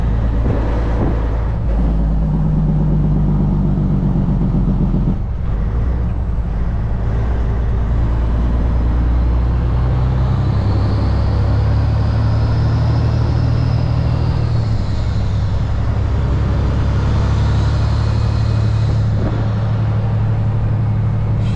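A Kenworth W900 truck cruises down the highway, its loud, steady engine drone and road rumble filling the cab continuously with no breaks.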